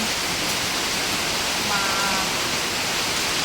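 Heavy rain pours down steadily at night near rice paddies, a dense continuous hiss that stays loud and even throughout with no voices.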